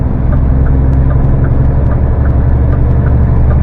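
Steady, loud low-frequency engine drone and road rumble from an HGV truck cruising on a motorway, heard from inside the cab as a continuous hum with no talking.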